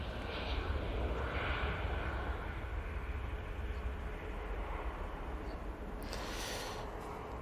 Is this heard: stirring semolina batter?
no